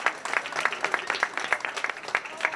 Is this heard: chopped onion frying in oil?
no